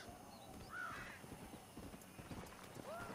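Faint horse hooves clop steadily while a couple of brief whinnying calls rise above them, quiet and somewhat distant, in the video game Red Dead Redemption.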